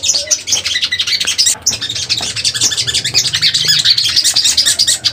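A sogon bird, a wild-caught, untamed cage bird, sings loudly and close with a rapid, continuous stream of sharp chirps and squawky calls throughout, no talk.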